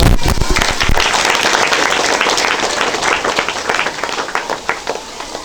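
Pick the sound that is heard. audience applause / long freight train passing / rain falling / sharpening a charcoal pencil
audience applause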